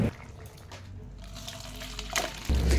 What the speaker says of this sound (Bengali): আমি একটা পাত্রে ঢেলে নিচ্ছি।